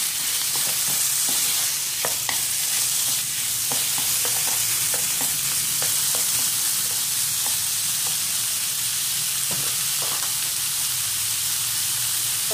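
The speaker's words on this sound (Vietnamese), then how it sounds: "Đảo để cho nó hết cái phần nước đi." Pork fat pieces fry loudly in a pan of hot oil, a dense steady sizzle and hiss with scattered pops and the scrape of a utensil stirring them, close and continuous with no speech.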